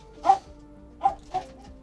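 A dog named Doll gives three short, separate barks at a moderate distance during a Surviving Mars game session, with quiet gaps between them.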